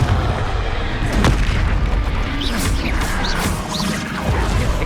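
A Confringo blasting curse bursts in the middle of a Hogwarts Legacy wizard duel, booming and crashing loudly amid a dense, continuous wash of combat noise with sharp impacts and whooshing spell effects.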